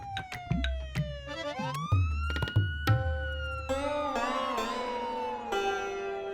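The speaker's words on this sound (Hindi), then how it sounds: "पुलिस की सायरन का आवाज है ये तो।" Police car siren wailing with rising and falling tones, fairly close, with a few dull thunks near the start.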